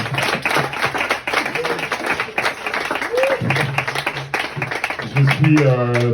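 Applause and clapping from an audience at a May Day workers' celebration, a dense wash of hands running throughout with voices and a sustained tone rising over it near the end.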